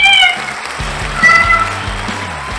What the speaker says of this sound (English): Now the star of Life with Bucky, Her Royal Buckiness, the world's most amazing cat, Bucky.